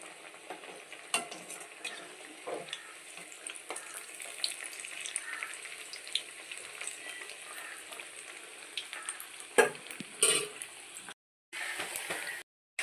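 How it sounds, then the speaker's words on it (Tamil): Banana flower vadai fry in hot oil with a soft, crackling sizzle and occasional louder pops, moderately close, ending in brief silences near the end. "வாழைப்பூடைய உள்ளே தட்டி போட்டதும் எடுத்து திருப்பி போடாமல் கொஞ்ச நேரம் விட்டுட்டு"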